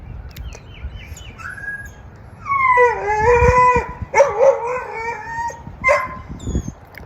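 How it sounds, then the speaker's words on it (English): A dog howls and whimpers in drawn-out, wavering cries, several in a row at close range, with short pauses between them. "That's the dog I helped to care for here in Georgia."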